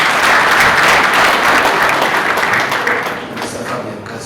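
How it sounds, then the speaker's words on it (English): A graduation-ceremony audience claps for the Council President, a loud, dense wash of applause that holds steady and then gradually thins and fades toward the end. "Can I request we give our Council President another big round of applause?"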